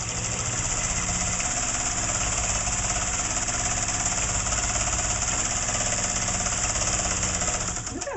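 Teal cast iron heavy duty sewing machine runs continuously through upholstery-weight woven fabric, a loud, steady rapid mechanical chatter and motor drone with no pauses, slowing slightly at the very end.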